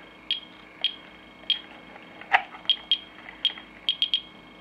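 Geiger counter held near an old radium-dial alarm clock, giving irregular sharp clicks and chirps, about a dozen scattered across a few seconds with some close together, alone in a quiet room.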